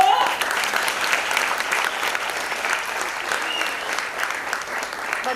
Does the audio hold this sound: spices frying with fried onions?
no